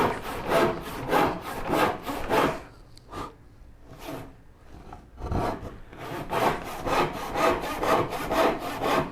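Hand cross-cut saw working through cherry wood, its rhythmic push-pull strokes loud and close, pausing briefly for a few scattered scrapes before the steady sawing resumes.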